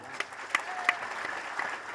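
Audience applause at a Jain religious discourse, a steady patter of many hands clapping at moderate level with a few sharper claps standing out, no voices over it.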